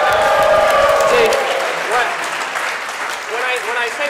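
Audience at a Hawaii-themed webcast applauds loudly right away, a dense wash of clapping that gradually thins and fades, with a few scattered cheers and voices mixed in.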